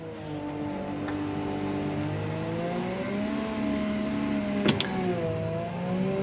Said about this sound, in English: Man, I love the power of this wheel loader.